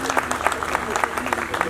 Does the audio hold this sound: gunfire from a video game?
no